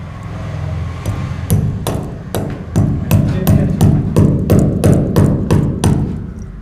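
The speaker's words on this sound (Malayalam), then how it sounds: "നമ്മൾ ആണി അടിച്ച് ചെക്ക് ചെയ്യാനുള്ള ഉദ്ദേശം എന്താണെന്ന് വെച്ചാൽ ഇതിൽ ക്രാക്ക് വരും എന്നുള്ളതാണ്" Hammer driving a nail into a gypsum-plastered wall over laterite stone, about fourteen sharp close blows, slow at first and then quickening into a steady rhythm, loud with nobody speaking.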